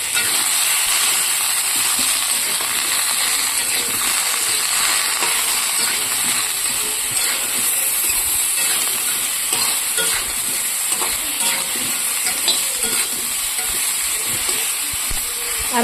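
Vegetables fry with steady hiss and crackle in a hot wok while being stirred, a dense continuous sizzle with small scraping stir noises throughout, close and loud.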